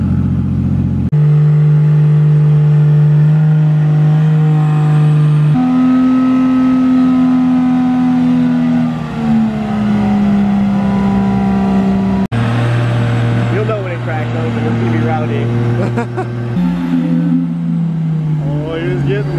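A tuned car engine revs hard on a dyno aiming for 500-plus horsepower, holding loud sustained pulls that step up and down in pitch, with one abrupt break midway and voices talking faintly underneath.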